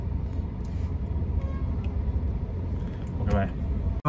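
A Maruti Swift car being driven, its engine and road rumble a steady close drone throughout, with speech over it.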